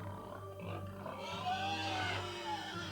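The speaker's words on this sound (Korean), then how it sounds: "하늘에 제사 지낼 돼지가 달아났다." A loose pig meant for a heavenly sacrifice grunts and oinks repeatedly as it runs about, its calls set against a steady musical background.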